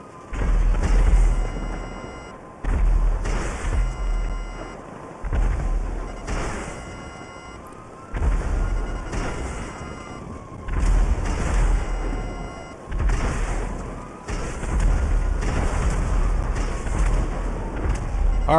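Missiles explode one after another during a GTA 5 Online heist, a string of heavy booms every couple of seconds, each with a rumbling tail, over continuous game noise.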